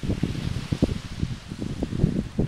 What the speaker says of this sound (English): You can hear the background of the waves.